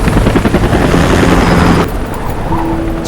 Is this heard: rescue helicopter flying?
yes